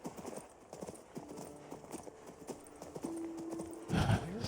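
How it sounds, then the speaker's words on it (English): Horse hooves clip-clopping during a ride in the video game King's Bounty 2, a steady close rhythm of hoofbeats with tonal game music underneath and a louder burst near the end. "So we got just a little bit of a horse ride to get there."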